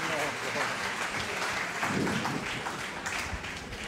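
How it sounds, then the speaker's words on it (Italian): Applause from the audience at an Italian fundraising award ceremony, a dense wash of clapping throughout, with a voice speaking over it. "Facciamo un grandissimo applauso."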